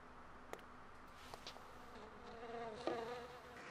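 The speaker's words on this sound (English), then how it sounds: "Why is there a bee?" A bee buzzes faintly in a quiet outdoor park scene, a thin, wavering drone that drifts in and out with a few soft clicks, and nobody speaks.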